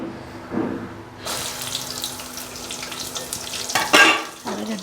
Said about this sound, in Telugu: ధనియాలు, జీలకర్ర, మెంతులు, ఆవాలు అన్నీ వేసి ఎండుమిరపకాయలు వేసుకోవాలి.